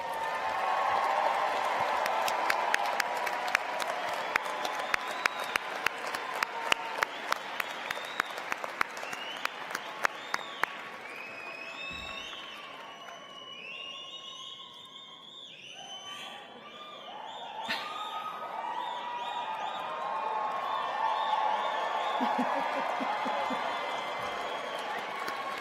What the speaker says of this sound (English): Let's give those new graduates a round of applause.